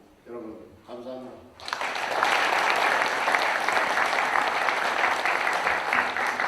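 An audience at a Naju education event applauds after a welcome speech, a loud, sustained burst of clapping that starts abruptly after a short stretch of voice and continues evenly to the end.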